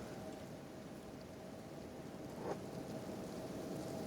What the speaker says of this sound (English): The rain here burns like fire.